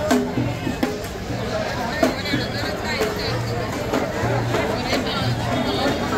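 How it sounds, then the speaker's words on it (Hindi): A crowd mills around at a temple fair on a temple road lined with shops: a steady, dense babble of many voices, with a nearby person talking over it. "इतनी भीड़ है"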